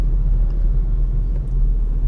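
A Volkswagen Golf R accelerates onto a highway ramp, its engine a steady, close, low rumble with no voices.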